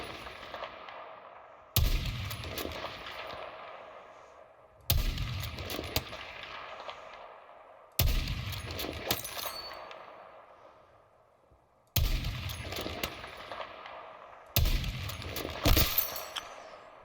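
Five loud sniper rifle shots from the PSR in Battlefield 6, each a sharp crack spaced about three seconds apart, with a long rolling echo that fades before the next shot.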